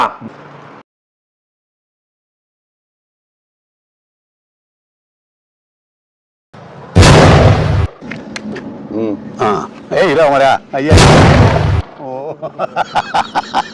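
Two sharp, loud booms from a carbide monkey gun, a fake gun for scaring animals, go off a few seconds apart after a long silence, mixed with nearby talking and some clattering.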